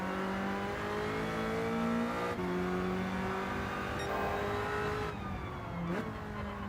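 A race car engine in Gran Turismo 7 revs hard through the gears, its steady high-pitched whine broken by quick upshifts and a brief tire squeal, loud and alone.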